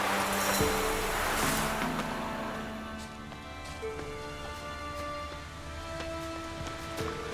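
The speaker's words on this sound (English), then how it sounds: "Oh, it's drizzling." Light rain drizzles steadily in The Witcher 3, a soft continuous patter near a pond, with a faint tonal background of game ambience and no talking.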